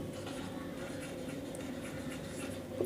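Writing on a board during a classroom geometry lesson, a steady faint scratching of marker or chalk strokes with no speech.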